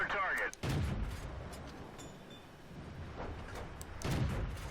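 A tank cannon fires in World of Tanks, a medium T20 tank battle, with a sharp booming blast at the start, another near the middle and one more near the end, set over continuous engine rumble and game ambience.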